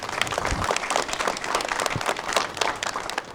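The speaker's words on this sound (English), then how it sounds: "let's give Dr. Boster a round of applause, all right?" At a community health event, an audience gives scattered, fairly soft applause with distinct individual claps, steady for a few seconds.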